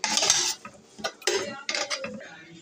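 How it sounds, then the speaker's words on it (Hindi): A spoon scrapes and clinks against the pot while lemon juice is mixed into masala for prawn biryani. Several sharp, close strokes come in quick bursts with brief pauses. "ये दो लेमन का जूस है ये अब डाल रही हूँ, और इसको अब मिक्स कर दूँगी"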